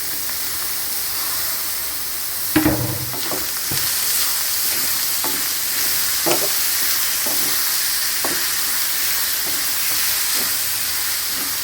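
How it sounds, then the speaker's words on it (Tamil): Onions sizzling steadily as they sauté in a pan, with three medium tomatoes tipped in; a sharp clatter near the start, then scattered stirring scrapes over a continuous close frying hiss, no voices. "இப்போ வெங்காயம் நல்லா வதங்கிடுச்சு."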